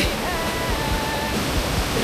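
Steady roar of rushing water from the first tier of Mae Hong Klang waterfall in Thailand, a dense continuous hiss with no breaks.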